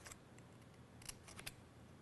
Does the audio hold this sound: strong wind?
no